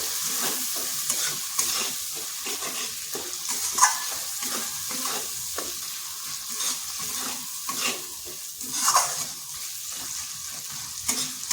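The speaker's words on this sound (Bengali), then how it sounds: "মশলাটাকে ভালো করে কষে নিতে হবে" Spice masala fried and stirred in a pan for a chicken dish, a steady close sizzle with repeated scraping strokes of a spatula, no voices.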